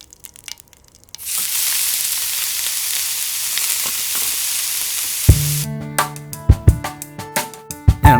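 Fish fries in a hot pan, a loud steady sizzle starting after a quiet moment and running for several seconds before it cuts to bright musical chimes.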